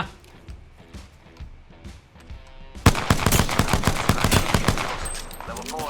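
Rapid gunfire in the Apex Legends battle royale, bursts of sharp shots that grow louder and denser partway through, with scattered impacts and game effects around them.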